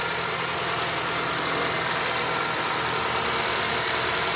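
Acura TSX wagon with a K24 engine running with no intake fitted, a steady, throaty idle held close and continuous without any voices.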